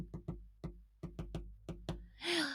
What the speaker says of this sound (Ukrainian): От і зараз, Чарлі, я чую якийсь підозрілий стукіт.